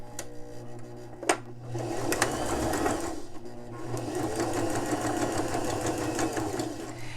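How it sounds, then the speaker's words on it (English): A sewing machine stitches fabric for a homemade face mask, its needle running in a steady, fast mechanical whir close by, with a sharp click as it starts and a brief pause before the stitching carries on. "So just start sewing, and then you're going to back stitch a couple."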